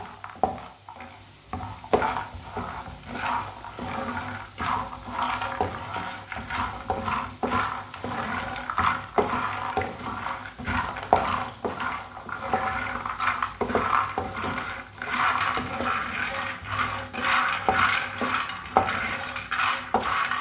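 Makhana (fox nuts) roasting in a pan on low heat, stirred with a utensil, giving soft repeated scrapes and light clinks over a faint background rattle, without speech.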